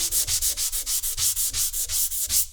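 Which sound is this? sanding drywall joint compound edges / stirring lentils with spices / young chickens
sanding drywall joint compound edges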